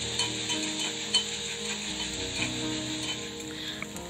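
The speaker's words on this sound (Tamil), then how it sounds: "இப்போ அதே கடாயில நம்ம 1 பெரிய வெங்காயத்தை நல்லா வதக்கலாம்." One large onion with two or three garlic cloves sautés in a kadai for kara chutney, giving a steady, soft sizzle with faint stirring scrapes and light ticks throughout, over quiet background music.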